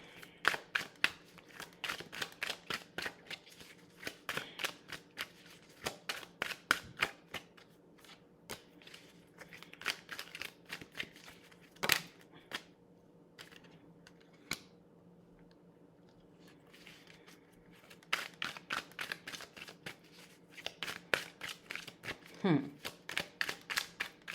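Tarot cards being shuffled during a reading, a quick run of crisp papery riffles and taps near the microphone in irregular bursts, with a short pause partway through before the shuffling resumes.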